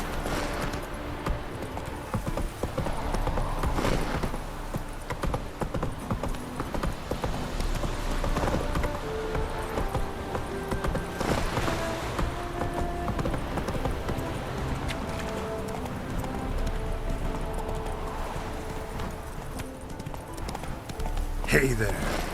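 Roach, Geralt's horse in the video game The Witcher 3, galloping with steady rhythmic clip-clop hoofbeats throughout, with voices and game music at times over the hooves.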